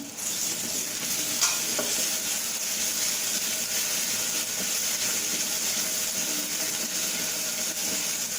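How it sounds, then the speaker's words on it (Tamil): Ginger garlic paste frying in a pan with onions that have already been sautéed for coconut milk tomato rice. A steady, close, dense sizzle and hiss runs throughout, with a few brief scrapes from stirring and no voices. "இப்போ வெங்காயம் வதங்கிடுச்சு, நான் இஞ்சி பூண்டு பேஸ்ட் போடுறேன்."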